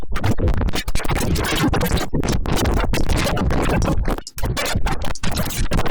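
Chaotic glitch texture from a pitch corrector misused, with LFOs sweeping both pitch and formant, giving dense stuttering, scratchy bursts that jump and chop continuously at steady loudness, with a brief dropout near the end.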